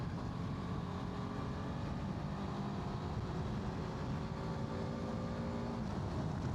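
A steady, buzzing BMW F450GS motorcycle engine drone holds throughout, loud and close, with a faint rising pitch as it pulls in a fifth-gear roll-on.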